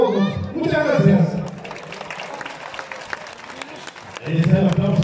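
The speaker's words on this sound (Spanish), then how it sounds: "Ahí está el aplauso, muchísimas gracias" Crowd applause at a village bull festival and capote tournament in San Pedro Cajonos, with clapping spread through the middle of the clip and a voice talking loudly over it at the start and end.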